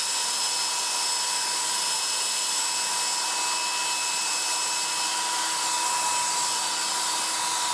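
Constant loud whirring of a 1980s Black & Decker SW105 Stowaway 1000 travel hair dryer blowing close by, steady and unbroken throughout.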